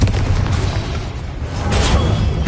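Confringo explosive spell blast in the video game Hogwarts Legacy: a loud, booming burst with a heavy low rumble that swells again near the end, alone without talk.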